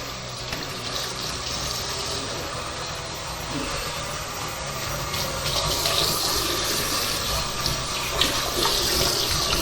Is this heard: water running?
yes